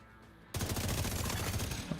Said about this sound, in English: What I can use here as well is actually the multi-missile launcher